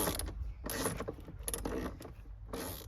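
Deep socket wrench ratcheting on a 13mm bolt behind the dash of an FG Falcon, heard as several bursts of clicking mechanical ratchet strokes, close and fairly loud with short pauses between.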